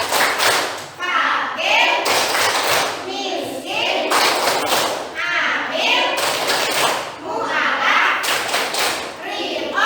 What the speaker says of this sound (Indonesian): yuk kita buat tepuk supaya kalian lebih mudah mengingat